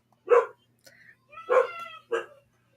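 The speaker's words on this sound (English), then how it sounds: "What is she barking at?" A dog barks three times in short bursts indoors, reacting to someone passing outside on the street, with a faint yip between barks and no talking.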